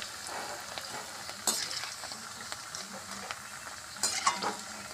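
Papad frying in hot oil in a home kitchen: a soft, steady sizzle and crackle with two louder bursts of bubbling crackle, close by and with no talk.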